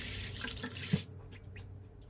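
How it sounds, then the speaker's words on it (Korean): Tap water runs over vegetables and fruit such as crown daisy, peach and squash in a sink, a steady close splashing hiss that stops abruptly halfway, leaving only faint drips. "쑥갓, 복숭아, 애플수박, 단호박 등을 흐르는 물에 씻어줍니다."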